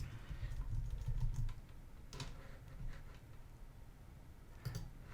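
Mac computer keyboard keys clatter in quick irregular bursts of taps and single clicks, close and fairly soft, as zoom shortcuts are pressed in Illustrator.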